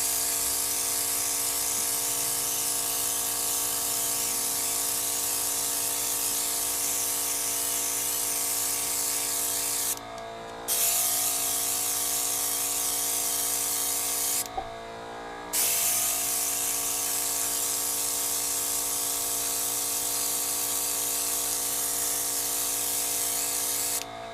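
Continuous hissing spray from an airbrush painting a doll, running steadily with two brief pauses where the spraying cuts off and then resumes.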